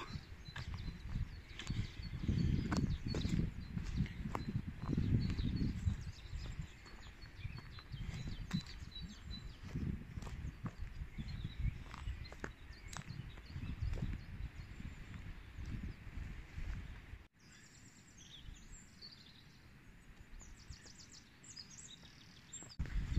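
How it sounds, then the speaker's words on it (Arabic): Birds of varied species chirp and tweet outdoors in Morocco's Middle Atlas in scattered short calls over a low rumbling background, with a clearer burst of chirping near the end. "اصوات ديال الزقزقه عجيبه"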